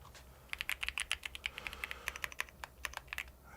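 Fast typing on a computer keyboard during a Type Racer race, with many sharp, close key clicks in quick irregular bursts and brief pauses between them. No one speaks over it.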